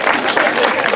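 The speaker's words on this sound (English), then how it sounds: "Give yourselves applause." An audience at a children's theatre show bursts into applause, a dense, close wash of clapping that fills the whole short moment.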